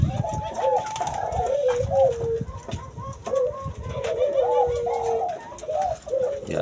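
Turtle doves cooing in a farm breeding pen during the rainy season, with repeated soft, rolling coos in close succession, near and clear over a faint background.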